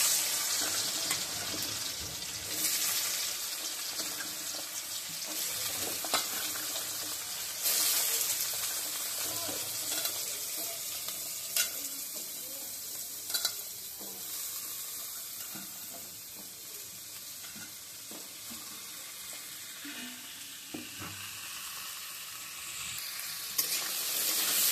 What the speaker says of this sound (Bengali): এখন আমি কুমড়োটা দিয়ে দেব। তেল গরম হয়ে গেছে।